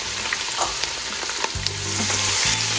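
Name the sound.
diced onion, curry powder and thyme sizzling in hot pan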